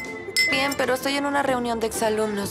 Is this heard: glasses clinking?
yes